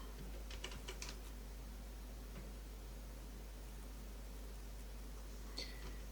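Quick bursts of typing on a computer keyboard, a short flurry of clicks near the start and a few isolated keystrokes later, faint over a steady electrical hum.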